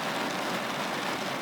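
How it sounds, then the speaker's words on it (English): Steady rain falls on a park, a dense continuous hiss with no gaps, close and fairly loud, with no voices over it. "it's raining."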